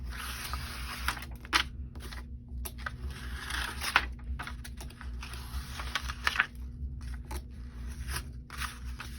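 Scissors cutting paper for a small handmade pocket devotion book, a series of close, crisp snips and slicing strokes at an uneven pace with quiet pauses between them.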